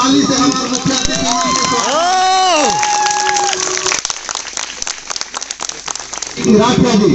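A village crowd at a rural cricket final claps and cheers to welcome the chief guest, dense applause at moderate distance that fades into scattered claps and rises again. An amplified voice speaks over the start.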